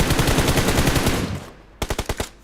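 Rapid automatic gunfire in the BGMI battle royale game: a dense stream of shots, then a short pause and a tight burst of about five loud, evenly spaced rounds.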